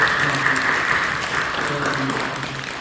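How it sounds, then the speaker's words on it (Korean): Applause from a church congregation during a worship service, a steady dense clapping that fills the room for about three seconds while a voice speaks over it. "우리 격려하며 박수해 주시죠"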